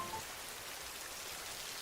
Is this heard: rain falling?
yes